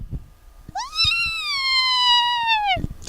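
A child imitates a cat's meow with one long, drawn-out tonal call that holds steady for about two seconds and then drops away. It is clear and close, with faint background noise before and after.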